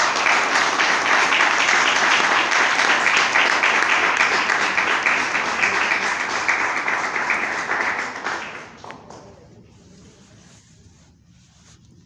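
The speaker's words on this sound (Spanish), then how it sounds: "¿Cuánto le pueden dar un aplauso al Señor?" Sustained, dense congregational applause fills a church service for about eight seconds, then thins out and fades to near silence, with a few stray claps at the end.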